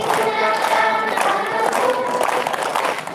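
Children and parents at an Easter church service sing together while clapping their hands in rhythm, the claps partly buried under the loud group voices.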